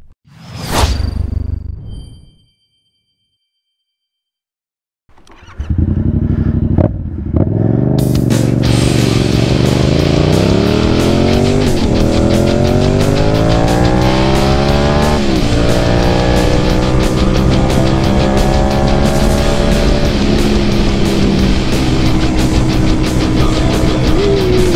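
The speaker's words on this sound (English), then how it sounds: "So let's hop on the bike, have some fun" A motorcycle starts up and accelerates on the road, a brief burst of noise first, then a silence, then the engine roars in close and loud with rising pitch sweeps through repeated gear shifts.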